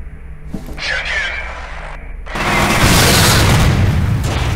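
An explosion in the video game F.E.A.R. erupts as a loud, broad roaring blast, following a rumbling stretch of game noise.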